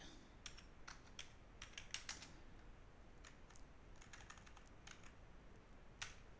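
Keys on a computer keyboard click in quick irregular bursts, soft and close, with short pauses between runs of typing against a faint steady background hum and no speech.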